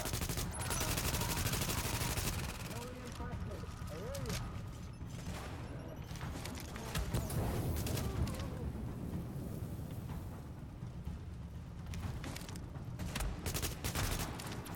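Heavy gunfire in the shooter game Tom Clancy's The Division rattles in overlapping bursts and single shots for the whole stretch, with intermittent clanks against a constant loud battle din.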